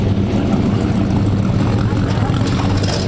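A 1969 Chevelle SS with a 396 cubic inch V8 running at a drag strip, a loud steady low rumble filling the whole stretch with faint voices in the background.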